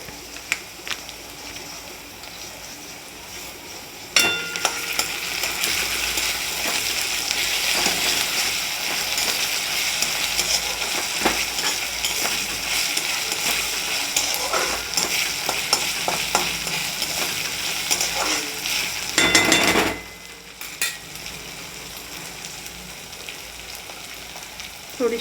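Ginger-garlic paste sizzles steadily in a hot pan while a utensil stirs and scrapes through it, with a brief louder burst of frying partway through; no voices.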